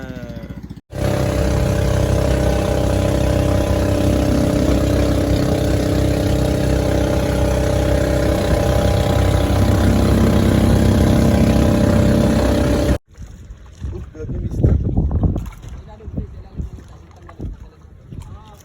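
Boat engine on a trip out from Masasa Beach, Batangas, droning loud and steady for about twelve seconds, then cutting out to splashing water, wind and voices.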